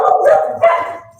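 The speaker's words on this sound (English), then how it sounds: "So no, I know that sound. That's Jim's dogs" A dog barks loudly and close by, two sharp barks in quick succession, with no speech over them.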